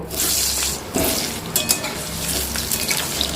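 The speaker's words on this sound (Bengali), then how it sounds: "আলুগুলোকে একটু লাল করে ভেজে তুলে নেব" Continuous sizzling of potatoes frying in oil until reddish, a dense crackling hiss with a few sharper pops and spatula clinks.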